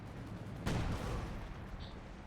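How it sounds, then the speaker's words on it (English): A distant artillery counter-barrage in the Company of Heroes 2 strategy game, one booming impact rolling out over a steady low rumble of battle, fairly faint with no voices. "Counter barrage coming in from the Sysgun"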